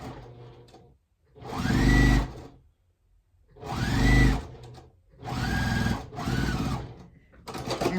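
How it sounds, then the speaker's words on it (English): A sewing machine joins quilt fabric strips, right sides together, in four short bursts of about a second each with brief silent gaps between them. The whirring is loud and close, and nobody talks. "So I'll go ahead and sew this on too."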